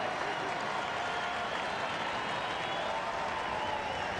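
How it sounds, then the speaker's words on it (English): A baseball stadium crowd cheers in a steady, dense wash of roaring noise that holds at full level throughout, with no single voice standing out. "Crowd comes alive."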